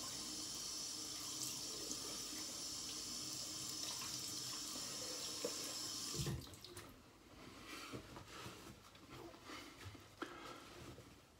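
A sink tap runs steadily while a razor is rinsed, then cuts off about halfway through, leaving a quieter room with a few small splashes and clinks.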